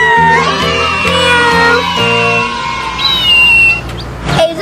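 A squeezable toy cat gives a long electronic meow tune with stepped, warbling notes, loud and close, ending with a brief rustle.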